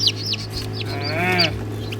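Young chicks peep and chirp in short, high calls near a farmyard, over a steady low electrical hum, with a louder rising warble in the middle, no voices.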